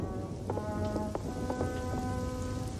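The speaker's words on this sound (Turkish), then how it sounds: "Yağmur Leni. Bu gerçekten yağmur." Rain falling steadily in an old 1940 western film scene, a dense patter of drops with faint rumbles beneath and swelling orchestral music tones layered over it, no speech.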